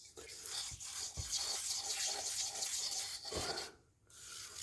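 A stiff wire brush scrubs rust off a 283 Chevy engine in close, rapid rasping strokes with a few sharp knocks, pausing briefly near the end before starting again.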